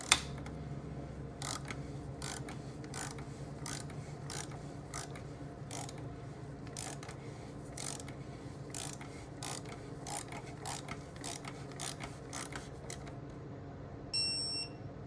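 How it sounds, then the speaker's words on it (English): Torque wrench ratcheting an oil filter cap tight on a 2017 Chrysler Pacifica to 18 foot-pounds, a steady run of close, regular clicks over a mechanical background, ending in a brief beep. "go ahead and torque it."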